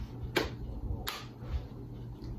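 Two sharp hand claps spaced about a second apart, given as a rhythm break between spoken vowel letters in a phonics lesson, crisp and close over a faint steady room hum.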